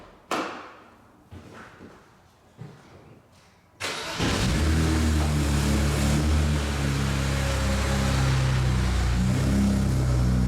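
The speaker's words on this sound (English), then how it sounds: "The exhaust on this thing does sound really good" A 2008 BMW 135i: after a few faint thumps and shuffles, the engine fires up and settles into a loud, continuous exhaust drone with a low, steady rumble, close and uninterrupted.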